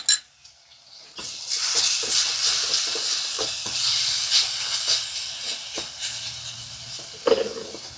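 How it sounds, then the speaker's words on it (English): Minced garlic hits hot onions in a pan for smoked kielbasa sauce, starting with a sharp clack and then a bright, steady sizzle with crackling pops that swells and settles close by. "I'm going to come in with 1 teaspoon of minced garlic. I'm going to add that in there. Let that go a couple minutes."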